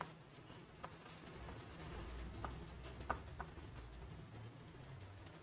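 Chalk or a marker writes on a board during a Bengali spelling lesson, a run of soft scratching strokes with faint taps, quiet and close, no speech.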